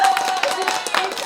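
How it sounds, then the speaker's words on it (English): A handful of people clap in short uneven bursts during a live online session, fairly close and loud, with a voice talking over part of it. "We're gonna give Greg a clap."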